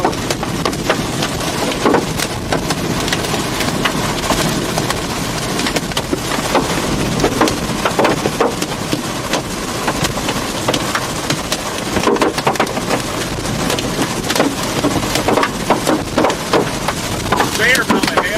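Hail and rain pelt a storm chasers' car during a tornado-threat chase, a dense continuous rattle of impacts on the windshield and body with wind noise, steady and loud throughout while voices speak over it.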